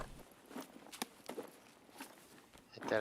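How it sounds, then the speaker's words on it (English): Footsteps in a scav round of a video game, probably Escape from Tarkov, sound as a series of soft, irregular steps at moderate distance, ending in a louder burst of noise. "I thought I heard more footsteps."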